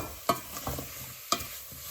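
Vegetables and cumin frying in a pan for a spicy bean soup, heard as a few sharp clacks of a utensil stirring against the pan over a faint, soft sizzle.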